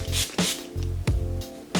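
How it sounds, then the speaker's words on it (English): Several short bursts of OUAI volume spray misted onto hair from a pump bottle, in an uneven rhythm of roughly five close, crisp hissing puffs with brief pauses between them. "I like to just spray that first all over my hair."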